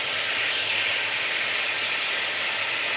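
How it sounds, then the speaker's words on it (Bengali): Cauliflower fries in a pan for a home-style egg and cauliflower curry, giving a continuous, even hiss and sizzle, close and steady with no talk. "এভাবে করে ভেজে নেব।"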